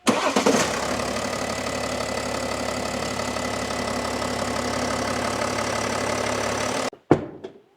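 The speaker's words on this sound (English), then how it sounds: "We have the car starting." A BMW X5 with its immobilizer removed cranks and fires, settling into a steady, loud idle close by for several seconds before cutting off abruptly, followed by a brief thump.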